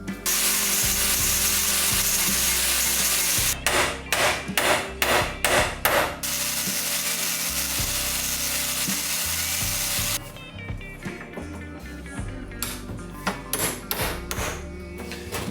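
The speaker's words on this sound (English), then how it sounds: "So I'm going to just chip into the wood here so it's nice and flush" A chisel cuts into wood fitted on a sailing boat under restoration. Sharp, close striking taps come in two quick rhythmic bursts over a steady, loud background.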